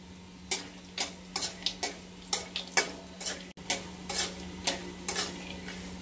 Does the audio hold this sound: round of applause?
no